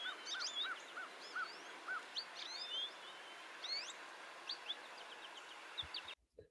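Birdsong with repeated squeaky, pig-like calls heard at a distance over steady outdoor background ambience, the chirps coming in short bursts with a few other birds calling faintly behind.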